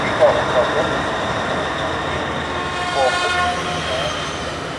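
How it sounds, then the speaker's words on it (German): A class V100 diesel locomotive rolls past at the Saxon railway museum in Chemnitz-Hilbersdorf during a depot festival, a steady rumbling drone with brief horn-like tones, heard under someone talking in German. "Hier kommt jetzt die Lokomotive der Baureihe V100."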